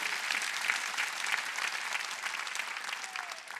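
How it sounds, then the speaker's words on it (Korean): A large congregation at a Sunday gathering in an arena hall claps together in a dense, continuous wash of hands, steady and fairly loud for several seconds before easing slightly. "박수치라 이거 박수치라"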